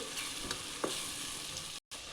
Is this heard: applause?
no